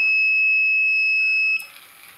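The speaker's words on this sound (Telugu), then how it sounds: "ఎప్పుడైతే నేను కళ్ళు మూస్తానో చూడండి, ఇక్కడ బీప్ సౌండ్ వస్తుంది కదా." A steady, piercing electronic beep from an anti-sleep alarm built for drivers holds continuously for about one and a half seconds, then cuts off into quieter whirring noise.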